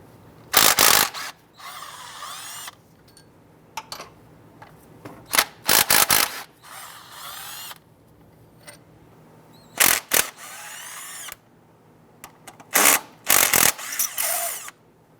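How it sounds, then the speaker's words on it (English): A ratchet with a 13mm socket loosens and removes four bolts while fitting an AC bypass pulley on a 1994-2004 Ford Mustang, heard as loud, close bursts of rapid mechanical whirring separated by short quiet gaps. "Using a 13mm, we're going to go ahead and loosen and remove these 4 bolts."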